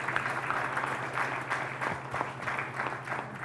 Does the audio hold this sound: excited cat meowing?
no